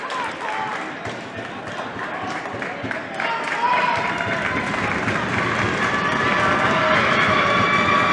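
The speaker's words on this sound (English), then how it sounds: "Limited crowd here due to protocol, but they are making all the noise they can" Loud, dense crowd noise from a limited crowd at a boys' high school varsity basketball game in an indoor arena, cheers and shouts swelling and growing louder toward the end, with voices mixed in.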